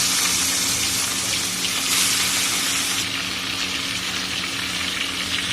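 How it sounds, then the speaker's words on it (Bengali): Bada prawns frying in hot mustard oil in a wok, a steady broad hiss and crackle that runs throughout, brightening briefly in the middle, with no talking. "তেল গরম হয়ে গেছে, এক এক করে বাদা চিংড়ি মাছগুলো ভেজে নেব"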